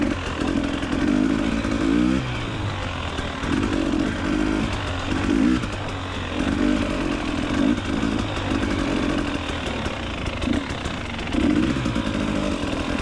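A dirt motorcycle rides a rocky trail, its engine droning loud and close throughout with rhythmic surges and dips in revs as the bike works over the terrain.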